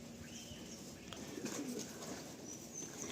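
Large Kaldom pigeons coo softly and repeatedly in their loft, with low, rolling calls over a steady background hiss and faint flutters.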